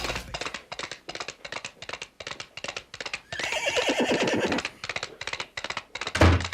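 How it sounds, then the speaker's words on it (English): A horse whinnies and neighs in a long, loud, shaky call, with bursts of nearby rustling and scraping before and after. "right now, here's your horse"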